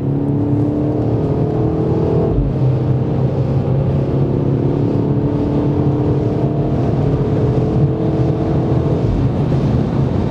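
BMW M8 Competition with its 625 hp engine held at full throttle through a bend, a steady loud engine roar with rising pitch and a brief dip near two seconds, no talk over it.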